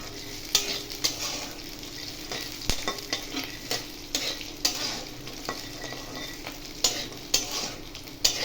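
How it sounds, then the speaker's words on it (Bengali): Peanuts stirred and frying in a pan for Maharashtrian peanut thecha chutney, with a steady close sizzle broken by frequent scraping and stirring clatters throughout. "লাল লাল করে ভেজে নিলাম।"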